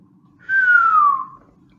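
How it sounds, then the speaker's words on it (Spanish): A single clear whistle, held for under a second and gliding downward in pitch, close and alone against near silence. "Merry silbó aliviado"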